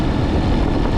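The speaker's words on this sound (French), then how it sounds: "Alors voilà, le moteur marche super bien." Motorcycle engine running on a mountain road ride, a steady close low rumble with wind rush blending in, loud and continuous for the full second.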